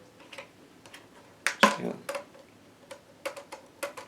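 A series of sharp plastic clicks from the spray button of a T-Fal Ultraglide steam iron, one loud snap among several lighter ticks, spaced irregularly and close by.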